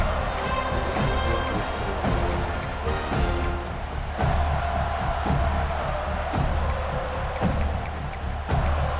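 Football stadium crowd roaring and cheering behind the home defense, a dense, loud, sustained wall of voices with occasional whoops and slams rising out of it throughout.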